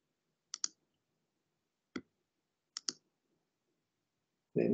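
Sharp mouse clicks on a computer, three spaced single and double clicks, close and crisp in a quiet room, ending with a louder thump.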